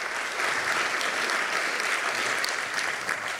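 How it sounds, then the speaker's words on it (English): Steady crowd clapping at a spoken-word event goes on evenly for a few seconds, dense and mid-level, ending with a sharp final sound. "Clap it up, clap it up"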